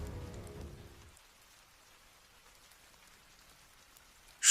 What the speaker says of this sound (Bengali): বাইরে একটানা বৃষ্টি আর বাজ পড়ার আওয়াজ।